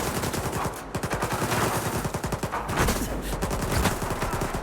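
Heavy gunfire from many weapons in the video game Stalker 2, dense rapid bursts overlapping in a loud, continuous fusillade without pause.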